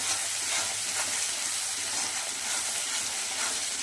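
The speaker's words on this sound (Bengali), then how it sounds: "এবার আমি আদা রসুন বাটাটা দিয়ে দেব, দিয়ে নাড়াচাড়া করতে হবে।" Ginger-garlic paste frying in hot oil in a pan for a spicy-sour small fish curry, a loud continuous sizzle with faint stirring scrapes, close and without speech.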